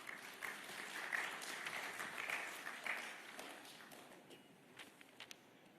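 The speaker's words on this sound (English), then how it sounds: "ladies and gentlemen, if you will clap" An audience at an evening event gives a round of applause, moderately distant and fading gradually over several seconds.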